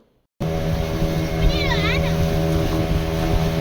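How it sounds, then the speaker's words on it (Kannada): Motorboat cruising at sea off Kodi beach, a steady close engine drone with wind rush and splashing water throughout, and a brief high whistling or child-like voice in the middle. "ಇವಾಗ ಬೋಟ್ ರೈಡ್ ಹೋಗ್ತಾ ಇದ್ದೀವಿ ಕೋಡಿ ಬೀಚಲ್ಲಿ"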